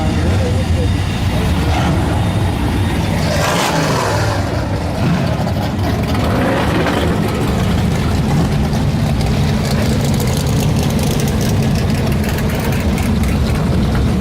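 A tuned blue Ford Mustang drag car idles with a loud, steady low rumble, rising briefly in a couple of revs early on, while people talk nearby.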